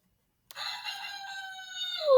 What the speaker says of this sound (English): Ruffle the rooster's feathers to hear him cock-a-doodle-doo.